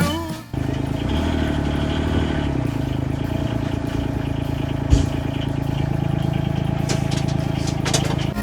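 A Gator utility vehicle engine starts and runs steadily at close range, a continuous mid-pitched drone with mechanical clatter that holds for several seconds, briefly punctuated by a sharp knock.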